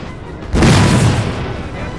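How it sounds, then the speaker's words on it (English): Canister shot from 12-pounder foot artillery in Napoleon: Total War booms out about halfway through, a single loud blast that swells and rolls away over a quieter battlefield background. "Canister shot coming from the 12-pounder foot artillery going after the Lifeguards down the bottom of the hill."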